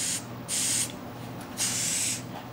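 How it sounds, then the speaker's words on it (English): Air hissing freely through the float valve of an ATV or motorcycle carburetor with the float relaxed, a faint steady hiss that swells twice into louder bursts, heard alone without talk. "you can hear air flowing freely when the float is in a relaxed position."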